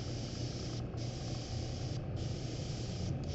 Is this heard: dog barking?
no